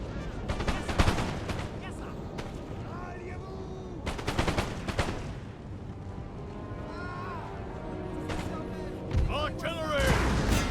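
Soldiers fire in the Napoleon Total War video game: repeated musket volleys and scattered shots crack over a constant battlefield din, with distant shouting voices in between.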